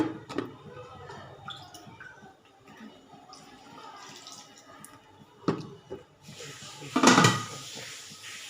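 A lid clatters down onto a cooking pot of boiling potatoes in a home kitchen, one short sharp clank near the end after quieter bumps and drips.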